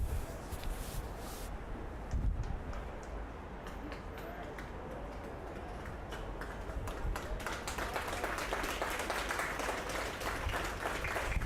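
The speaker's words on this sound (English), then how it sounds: "Mark Fitzgibbon comes off to the applause of the crowd here." Distant crowd applause at a rugby match swelling steadily over a broad stadium roar, with scattered claps standing out and growing louder toward the end.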